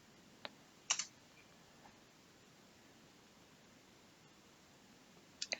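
Computer keyboard keys tapped while entering a terminal command, a few faint isolated clicks and a short cluster of keystrokes over low steady background hiss.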